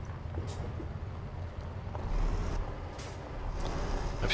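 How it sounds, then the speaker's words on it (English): Engine noise of a Volvo FH truck in Euro Truck Simulator 2 hums as a low, steady drone, with brief hisses breaking in over the top. "This engine, the engine noise on this Volvo FH"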